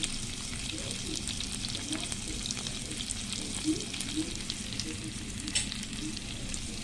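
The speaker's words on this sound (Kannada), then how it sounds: "ಶೇಂಗಾದ ಕಾಳುಗಳನ್ನು ಹಾಕೋಣ. ಕರಿಬೇವು ಹಾಕೋಣ." Peanuts and curry leaves sizzle in hot oil for a puffed rice dish, a close, steady crackling fry with occasional stirring scrapes throughout.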